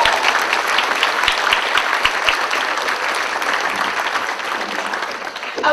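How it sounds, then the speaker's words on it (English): Continuous applause from an audience at an association event for its ambassadors, steady and fairly close, holding for several seconds without talk. "Give them a round of applause"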